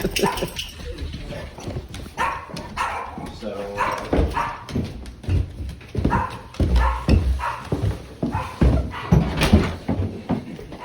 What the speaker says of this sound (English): He's fine. He's a big dog.